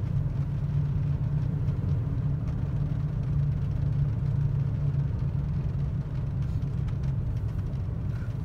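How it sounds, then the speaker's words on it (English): Inside a 2013 Toyota Tacoma on all-terrain tires, a deep, steady tire rumble and road drone fill the cabin, continuous and even throughout. "Does have a little bit of a rumble from the all-terrain tires"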